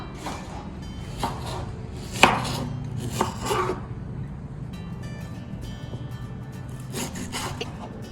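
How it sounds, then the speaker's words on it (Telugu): A knife finely chopping tomatoes on a board for a Chettinad chicken curry, bursts of quick rhythmic taps separated by short pauses, close and crisp. "టమాటోస్ కూడా ఫైన్ చాప్ చేసేసుకుందాం"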